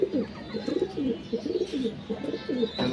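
Pigeons coo in a home loft, a run of close, repeated low throaty coos following one after another in a steady rhythm, with no one talking.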